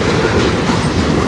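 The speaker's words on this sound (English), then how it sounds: "This is the first train this afternoon." A train rolls past on the Strathroy Subdivision rail line, a loud, steady close rumble with rhythmic clickety-clack of wheels over the rails and no voices.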